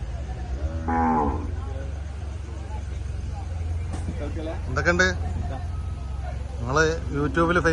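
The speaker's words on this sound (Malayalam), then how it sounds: "നല്ല പാലുള്ളൊരു പശു" Two loud cow moos ring out at a cattle market over a steady low rumble of engines and crowd noise, with chatter and a few calls nearby.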